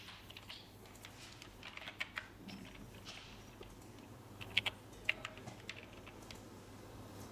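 Faint, quiet typing on a computer keyboard as fake Visa card details are entered into a payment form, with scattered soft key clicks and a few sharper taps over a low background hum.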